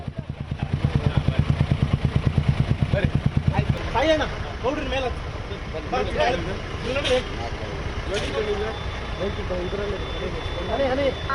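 Motorcycles at an election campaign bike rally in Karwar, a loud rhythmic engine thrum for the first few seconds, then fading into a wash of traffic and crowd noise with people talking over it.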